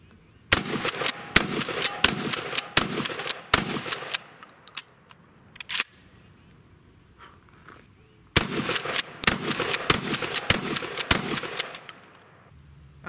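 A Mossberg 590 Shockwave shotgun fired from the hip at about 10 yards, giving two loud bursts of rapid, sharp shots separated by several seconds of quiet, each blast ringing briefly outdoors.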